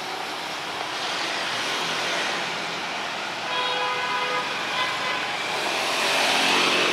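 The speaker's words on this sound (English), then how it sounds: "Oncoming traffic again." Oncoming road traffic on an evening street in central Da Nang, Vietnam: a steady, fairly loud wash of passing engines, with tooting horns and a rising engine roar toward the end.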